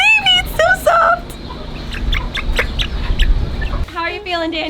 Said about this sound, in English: I love picking up chickens.